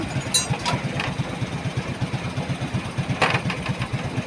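Old, decades-worn motorcycle engine idling steadily up close, a regular low chugging pulse with faint ticking and a couple of brief higher metallic clicks on top.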